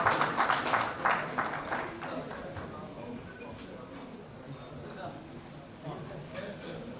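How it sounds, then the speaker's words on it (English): An audience at a heart-care awareness conference claps for people called forward, a scattered patter of applause strongest at the start and thinning out, with an announcer speaking over it. "A round of applause, ladies and gentlemen."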